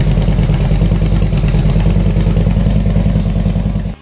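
A Harley-Davidson touring motorcycle engine runs steadily, a loud, close, throbbing rumble with mechanical clatter that holds even throughout before cutting off abruptly.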